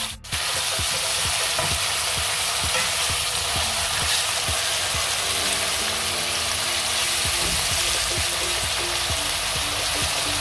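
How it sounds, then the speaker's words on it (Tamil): Soaked dried shark fish sautés in hot oil in a pan with a loud, dense, continuous sizzle close by. A spoon scrapes and taps repeatedly under the frying, and there is no talk. "ஸோ சொரா கடுவாரு இது முதல் எண்ணெயில் போட்டு நம்ம வதக்கிக்கலாம்"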